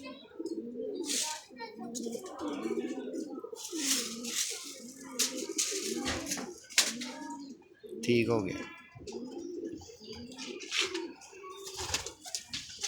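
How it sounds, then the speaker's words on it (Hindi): Pigeons being handled by sellers coo in repeated soft, throaty bursts at close range, one call after another in a steady rhythm, while someone speaks briefly between the calls. "लो जी तीसरा कबूतर।"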